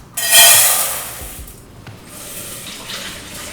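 Water pours steadily into a pot for brown rice with a bright splashing rush that starts abruptly, then settles into a softer, continuous trickle.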